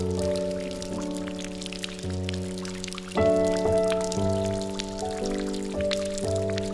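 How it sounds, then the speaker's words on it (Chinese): Rainwater drips and patters through the leaking roof of an abandoned factory building in Chengdu, a steady watery trickle heard beneath sustained background music. "无人维护的厂房到处都在漏雨，哗哗的滴水声好像在哭泣。"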